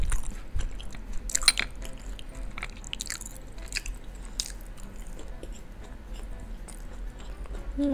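Crunchy Dutch bitterballen dipped in sauce are bitten and chewed close to the mic, with scattered crisp crunches and soft wet chewing over a low steady background hum.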